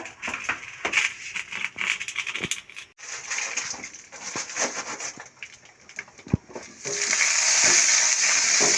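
Cumin seeds sizzle in hot oil in a pan, a crackling, spattering fry that comes in uneven bursts with a few clinks, then turns into a loud, steady hiss for the last couple of seconds.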